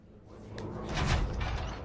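A door in the video game Control slides shut with a short rising swoosh and a soft thud, close and alone.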